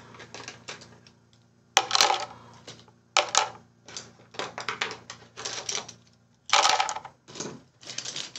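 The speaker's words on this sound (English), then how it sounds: "Now I have to put all of these pens away." Many gel pens being gathered and put away, a string of clicking, clattering bursts of plastic knocking together, some sharp and loud, others lighter, with no talking.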